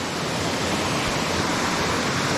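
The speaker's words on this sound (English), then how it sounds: "it's definitely a waterfall" A waterfall at Stonewall Falls, heard on a hike, roars in a loud, constant, close rush of falling water with no breaks and no voices.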